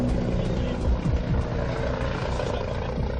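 Gendarmerie helicopter flies above the A63 motorway with a steady, loud rotor thrum and engine whine, overlaid by a narrator's voice.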